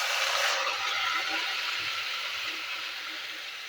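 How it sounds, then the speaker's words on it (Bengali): Spice-coated fish dropped into hot oil in a pan gives a steady, loud broadband sizzle and hiss that holds for the whole stretch, easing off slightly toward the end, with no voices over it. "এবার এই পুরো মাখা মাছ আমি তেলের মধ্যে দিয়ে দিচ্ছি।"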